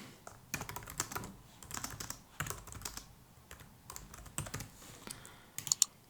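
Quiet, close computer keyboard typing in irregular bursts of crisp key clicks and clacks, with short pauses between groups of keystrokes and no voices.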